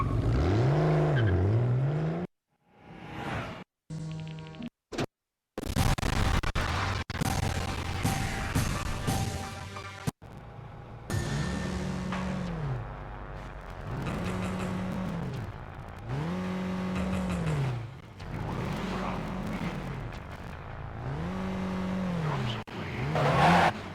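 Race cars in Midnight Club 3 running on the PPSSPP emulator on an overclocked Raspberry Pi 4: loud, repeated rising and falling engine revs with tire squeals, preceded by choppy dropouts and brief gaps.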